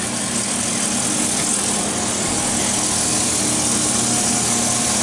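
A TG-12x4 centerless grinder with a diamond-plated superabrasive wheel and regulating wheel grinds carbide dental burrs, giving a loud, steady, dense whirring hum with no breaks and no talk.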